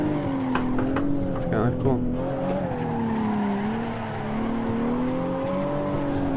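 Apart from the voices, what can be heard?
BMW 1M car drifting through a turn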